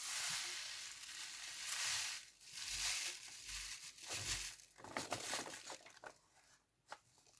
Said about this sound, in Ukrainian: Залишки солі ми трошки висипаємо, так?